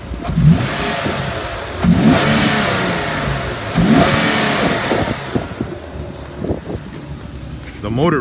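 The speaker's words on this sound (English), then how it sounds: "The motor revs up nice." Engine of a 2014 Infiniti QX70 with 18,000 miles and a rebuilt title revs repeatedly, several rising surges of engine roar separated by settling back toward idle, loud and close.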